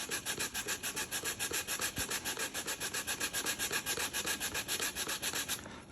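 Rhythmic back-and-forth sanding of figured wood veneer wrapped around a drum shell, a steady rasping rub repeating several times a second, close and loud, with no voices.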